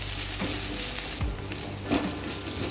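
Food frying with salt in a pan during a semiya dish preparation, a steady close sizzle with a couple of brief stirring knocks, no voices.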